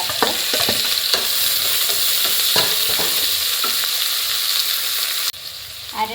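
Three sliced onions frying with whole cardamom and cumin in a pot for chicken biryani, a steady close sizzle broken by the clinks and scrapes of stirring, continuous with no voices.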